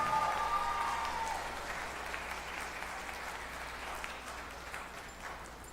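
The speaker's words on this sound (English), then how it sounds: "let's give Violeta another big round of applause" A graduation audience at an elementary school applauds a student, a soft, distant, steady patter of many hands that slowly fades, with a faint voice near the start.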